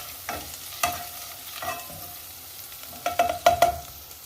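Garlic paste cooks over high heat in a pan while a spoon stirs and scrapes it, with soft sizzling under a series of clinks and scrapes that grow quicker toward the end, with no talking.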